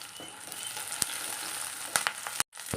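Steady, close sizzling of onions frying in a pan, with a few sharp clicks and scrapes of stirring and a brief gap near the end.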